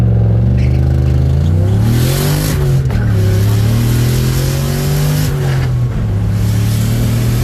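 Ford Mustang fitted with an On3 70 mm turbo on 7 pounds of boost, accelerating hard with loud, close engine revs that rise and shift through gears in a steady climbing drone.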